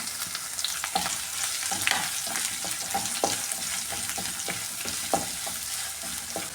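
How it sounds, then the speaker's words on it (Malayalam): Onion sautéing in oil with dried red chillies for a tomato curd curry, giving a steady crackling sizzle broken by frequent spoon clinks and scrapes against the pan. "ഈ സവാള ചെറിയ രീതിയിലൊന്ന് വാഴ്ത്തിയെടുക്കാമേ"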